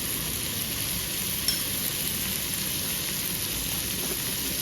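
Okra and potatoes fry in a pan with tamarind pulp stirred in, giving a loud, unbroken sizzle with one faint utensil tap and no voices.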